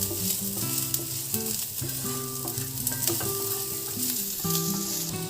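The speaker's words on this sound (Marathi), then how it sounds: "हे कांदा पहिला आपलं थोडंसं आपण लाल करून घ्यायचं आहे आणि मग त्यानंतर मी या खोबरं मिक्स करते" Chopped onion and dried coconut frying in a little oil for a Maharashtrian prawn curry, a dense continuous sizzle with occasional stirring scrapes and clinks, close and steady throughout.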